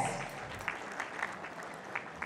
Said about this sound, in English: Huge round of applause for our chief guest.